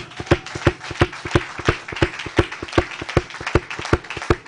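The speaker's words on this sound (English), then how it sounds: "please let's give him a round of applause" Steady rhythmic clapping from a small group at a digital library launch, sharp claps repeating at an even pace throughout, close and fairly loud.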